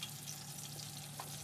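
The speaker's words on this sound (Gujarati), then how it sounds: "આ બાજુ જો મરચા તળાય છે" Green chillies frying in oil in a home kitchen, a steady soft sizzle with faint crackles running throughout at moderate distance, over a low background hum.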